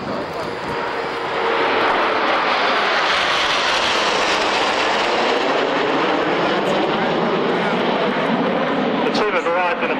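Red Arrows jets roar overhead at an airshow, the engine noise swelling and holding loud and steady as the formation climbs into a loop, with a commentator talking over the sound.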